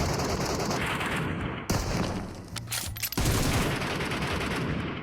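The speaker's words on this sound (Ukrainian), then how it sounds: "Він десь ближче, чуєш? Він вже ближче стріляв." Rapid automatic gunfire crackles in bursts in the PUBG Mobile Metro Royale shooter game, loud and dense at the start and end with a brief quieter gap in the middle.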